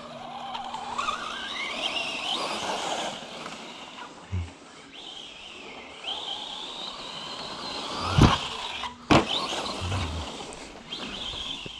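An Arrma Gorgon 3S RC car running on brushless power, a high electric motor whine rising and falling as it accelerates, with a few sharp knocks from bumps and landings.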